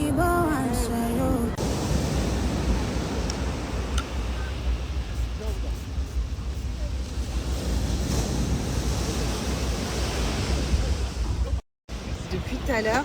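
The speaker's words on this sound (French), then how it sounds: "les vagues sont tellement, mais tellement fortes que les gens, mais ils tombent" Strong ocean waves crash continuously at a beach, a loud, dense roar of surf mixed with wind buffeting the microphone; a voice speaks briefly at the start.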